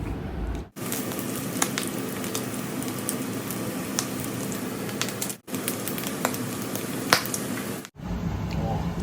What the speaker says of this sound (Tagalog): ipiprito ko naman yung in-slice ko na pork belly at saka yung tenga